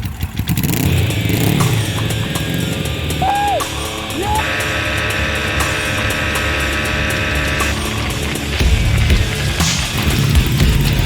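A Gixxer drag bike engine, fitted with swapped carburetors, runs loudly and continuously, its rough throbbing idle mixed with rattles and clatter from a shop setting.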